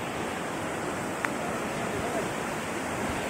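River water swollen after heavy rain rushes steadily beneath a bridge, a continuous loud broadband roar with no break, carrying driftwood downstream.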